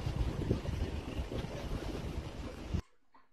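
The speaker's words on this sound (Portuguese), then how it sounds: "O vento é muito triste" Strong wind roars steadily across the microphone outdoors, with dense, gusty rumbling that cuts off abruptly near the end, leaving near silence.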